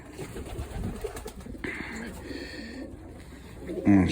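Pigeons coo repeatedly in a loft, soft throaty calls rising and falling close by, with a brief louder burst near the end.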